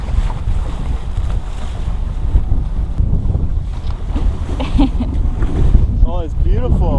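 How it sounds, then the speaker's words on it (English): A sailboat motoring in toward French Polynesia under engine on a calm morning, a steady low engine drone mixed with wind buffeting the microphone and water rushing past the hull, with faint voices toward the end. "We're motoring in as there's been no wind overnight"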